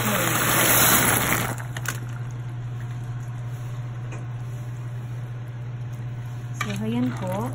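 Water with elbow macaroni bubbles and simmers steadily in a pot up close, with a brief scraping stir at the start and a voice starting at the end.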